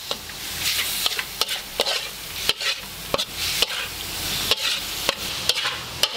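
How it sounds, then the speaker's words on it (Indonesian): Beef offal and tendon bits frying and being stirred in a little oil in a pan for a spicy Indonesian stir-fry, a steady loud sizzle broken by regular sharp scrapes and clacks of the spatula, with no voices. "Setelah satunya kita goreng."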